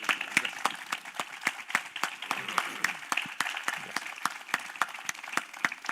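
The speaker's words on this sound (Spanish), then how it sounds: "Aplausos." A small audience at a 2018 talk in Antofagasta claps for about six seconds. The applause is sparse and moderately quiet, with individual sharp claps standing out in an uneven patter.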